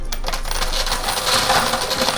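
Coins in a high limit coin pusher machine fall and clatter continuously, a loud, dense metallic jingle of quarters tumbling and scraping with no pauses or talk.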